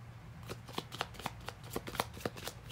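Tarot cards are shuffled up close in a quick, even run of crisp papery riffles and clicks, about four per second, soft but clear and with no talk.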